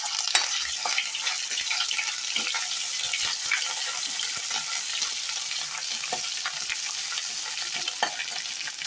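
Cumin and ginger garlic paste frying in a pan, a constant close sizzle with scattered spatter pops and stirring scrapes running evenly throughout, no voices.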